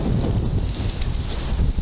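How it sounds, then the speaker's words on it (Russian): Steady outdoor wind buffeting a microphone on a walk through a hillside park in Zheleznovodsk, a continuous low rumble with gusty swells and no talk. "А тут ветер будет сейчас"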